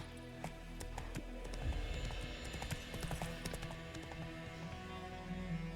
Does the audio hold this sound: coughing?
no